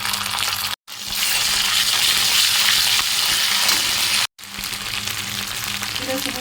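Whole spices, dried chilli, bay leaf, cinnamon, clove, cardamom and ginger paste hit hot oil in a kadai with a loud, hissing sizzle that swells and holds, interrupted by two short breaks; no talking.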